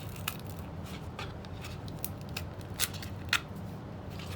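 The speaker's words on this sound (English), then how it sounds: "take my scissors and cut" Scissors snipping through decorative craft material while making a Dollar Tree baby shower centerpiece, a few short crisp cuts spaced irregularly over low room hum, with the sharpest snips near the end.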